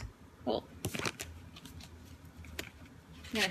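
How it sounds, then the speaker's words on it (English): A deck of cards is shuffled at close range during a card reading, giving a few quick riffling flutters and soft taps in a quiet room. "I'm gonna shuffle these cards real quick."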